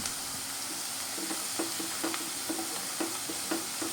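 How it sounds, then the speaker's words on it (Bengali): Onions fry quietly in a pan for a Bengali paneer bhuna masala, browned and nearly done, a soft steady sizzle broken by regular light taps of a spoon stirring, heard up close with no voices. "ঠিক এইভাবে পেঁয়াজটা ভেজে নিতে হবে।"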